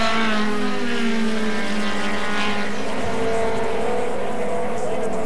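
Race cars from a 1980 SCCA GT-3 national championship race roar past at flat-out speed in lap traffic, a loud continuous engine drone with shifting pitch that fills the whole stretch.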